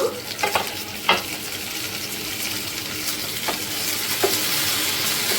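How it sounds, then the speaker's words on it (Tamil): Tomatoes, ginger, garlic, shallots and dried chillies sizzle in a hot pan for an egg curry, a steady frying hiss broken by a few sharp stirring scrapes and clinks of the spoon against the pan. "நல்லா வதக்கிக்கோங்க."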